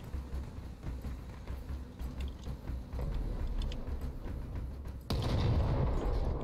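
Mech-mounted guns firing in the vehicle combat game Crossout, a steady low rumble of rapid shots that grows heavier and louder in the last second or so.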